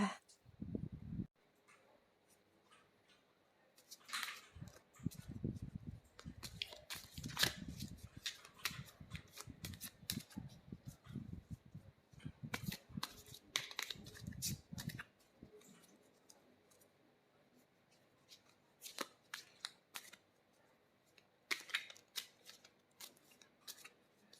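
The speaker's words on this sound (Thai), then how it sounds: "ขออนุญาตสับไพ่นะคะ" Tarot cards being shuffled by hand, bursts of crisp riffling and snapping clicks in irregular runs, close and fairly quiet, with pauses between.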